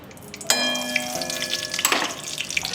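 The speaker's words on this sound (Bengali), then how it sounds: "এবার পেঁয়াজটা ভাজি" Thinly sliced onions dropped into hot ghee in a pan, a sudden close hiss that settles into steady sizzling with light clinks and stirring, no talking.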